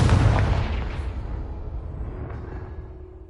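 A loud Confringo spell explosion in Hogwarts Legacy, one heavy close blast at the start with a deep rumbling boom that slowly fades and tails off over a few seconds.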